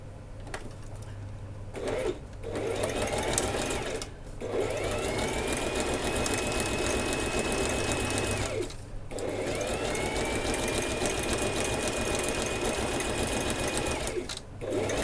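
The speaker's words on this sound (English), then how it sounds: "now occasionally I will do a little back stitch" Sewing machine stitching with chocolate brown cotton thread, running in two long steady bursts separated by short pauses, close and fairly loud with a continuous mechanical whir.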